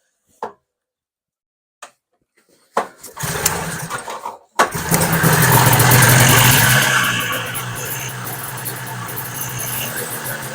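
A John Deere 400 snowmobile engine with a Mikuni carburetor and the choke on gives a few short pulls, then catches and runs loud and rough close by, settling into a steadier idle.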